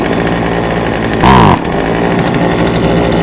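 An old chainsaw's engine idles loudly and steadily during low idle screw adjustment, with a brief rise in revs partway through before settling back to its rough, buzzing idle.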